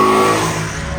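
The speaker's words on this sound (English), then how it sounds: "get a rev match downshift with a beautiful noise" Maserati engine blipping during a rev-match downshift, a loud sustained rev that sits close and fades slightly as it settles.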